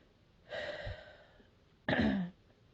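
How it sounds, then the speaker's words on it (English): Two separate coughs, the first a longer rough burst and the second a sharp, loud hack, close to the microphone with a quiet pause between. "I don't know why I'm coughing."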